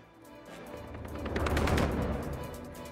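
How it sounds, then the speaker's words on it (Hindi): Pistol gunfire from news footage of a suspect firing at people, heard as a rapid cluster of loud shots swelling to a peak mid-clip, with no talk. "लोगों पर पिस्तौल से फायरिंग करता दिखा एक आरोपी"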